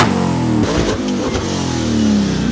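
Nissan Patrol engine revving hard during a four-wheel drive burnout with a manual gearbox, a loud close growl rising and falling with brief breaks as the revs change.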